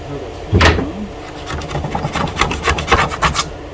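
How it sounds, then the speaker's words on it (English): Grime being scraped off the case of an Apple II Plus computer: a loud scrape near the start, then a run of short, rhythmic rasping strokes, with quiet background voices. "we'll see if we can scrape off whatever that is"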